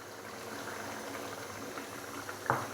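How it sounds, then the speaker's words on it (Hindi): Half a cup of water going into chana dal makhni cooking in a pan, a faint continuous sizzling bubble with a small splash near the end. "तो अभी मैं इसके अंदर हाफ़ कप पानी मज़ीद डालूँगा।"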